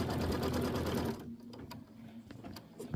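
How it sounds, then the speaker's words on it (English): Sewing machine running a quilting stitch with linen thread on a quilt block, a close burst of fast rhythmic stitching that halts after a second, leaving quiet clicks and fabric handling. "I'm going to change it to my linen thread and we'll do the quilting stitch"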